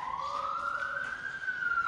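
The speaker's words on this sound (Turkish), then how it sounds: "Ambulans geliyor." A toy ambulance siren during children's play sounds as a single steady electronic tone that slowly rises and holds, clear and fairly close with no talking over it.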